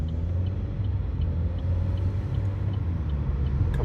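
Low, steady engine rumble from a Chevy Cruze with a 1.4 turbo engine under acceleration, heard from inside the car at a moderate level, with no speech.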